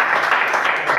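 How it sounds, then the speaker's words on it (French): Classroom applause during a math lesson, a short burst of dense clapping from pupils that sounds close and steady, with some mixed voices. "Applaudissez-le."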